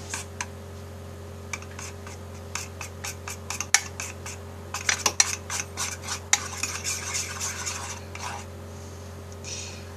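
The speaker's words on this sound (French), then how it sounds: "Vous voyez, on mélange." Homemade slime is stirred in a bowl by hand, producing repeated scraping and clinking strokes of a utensil against the bowl, irregular but steady, over a low background hum.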